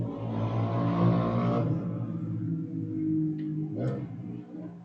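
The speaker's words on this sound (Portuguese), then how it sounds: "tem um barulho de moto aqui" A motorcycle engine drones close by, then fades off after a couple of seconds, leaving quieter rumble and a few faint clicks.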